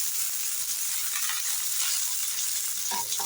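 Fennel seeds and curry leaves sizzle in hot sesame oil in a pan for a brain fry, a steady close crackling hiss with a few sharper pops and a faint clink near the end, no voices.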